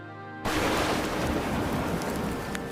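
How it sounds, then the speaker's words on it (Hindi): Steady, dense rain suddenly pours in after a brief quiet start, with a broad hiss and low rumbling like distant thunder sustained throughout the storm. "हवाएं चलने लगती हैं और अचानक बारिश शुरू हो जाती है।"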